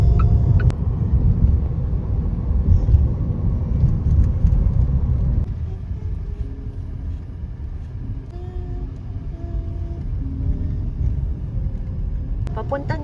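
Cabin sound from a Geely EX2 Max electric car cruising along a highway, a steady low road rumble and tyre roar throughout, easing slightly partway, with faint chimes and clicks near the end.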